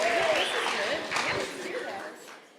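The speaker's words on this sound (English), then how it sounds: "have a big round of applause" Guests at a wedding reception applaud the bride and groom, a burst of clapping that fades over a couple of seconds while a voice talks over it.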